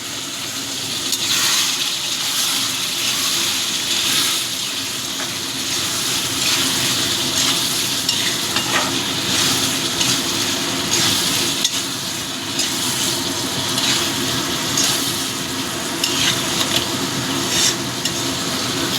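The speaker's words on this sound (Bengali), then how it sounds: "আবারও একটু গরম জল দিয়ে মশলাটা কষিয়ে নেব।" Mustard-based spice paste for a parshe fish curry sizzles and fries steadily in a pan with hot water added, a continuous hiss broken by scraping stirs and spoon scrapes, no talk.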